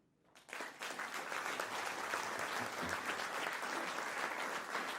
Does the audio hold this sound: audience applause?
yes